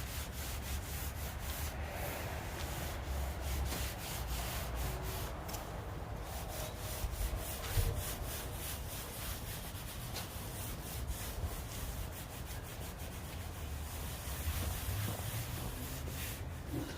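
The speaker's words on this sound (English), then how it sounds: "Scrubbing it really good." Steady hand scrubbing while cooking chicken piccata, a continuous close rough rubbing with quick rhythmic strokes, fairly quiet and with no talking.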